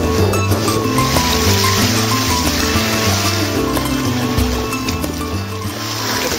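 Three-foot ocean swell, left over from a hurricane, rolls and sloshes continuously against a sailboat, a steady broadband wash of water with no talking.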